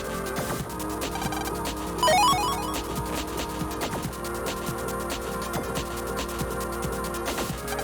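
Phone ringing in the Mega Man Battle Network video game, a chiptune-style electronic ring that repeats steadily over busy game music, loud and close.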